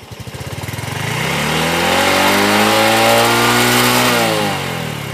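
A new motorcycle engine idles with a quick steady putter, then the throttle opens and it revs up into a loud, rising drone that holds and eases slightly near the end.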